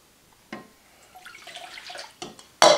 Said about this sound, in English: you're going to add 1 cup of warm water